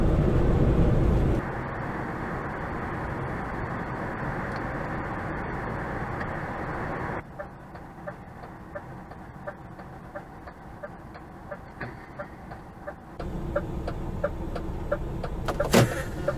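A long-haul truck driving on the road, its steady engine and road rumble continuous and fairly loud throughout, dropping in level partway through and swelling again near the end.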